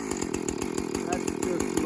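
A Husqvarna chainsaw fires up and runs, its engine a rapid, steady buzzing pulse close by, with a voice talking over it.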